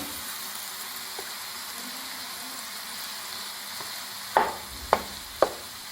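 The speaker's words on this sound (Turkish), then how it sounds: "Soğan bir miktar kavruldu. Bu aşamada kıymayı dahil ediyorum." Minced meat and onions fry in a pan with a soft, steady sizzle, then three sharp clanks of a utensil near the end.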